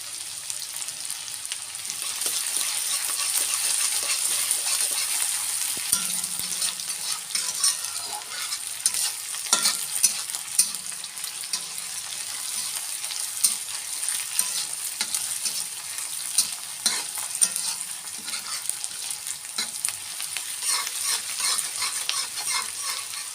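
Onion, garlic and ginger fry in a pan for an Assamese meal, a steady close sizzle with occasional stirring scrapes and clinks, no voices.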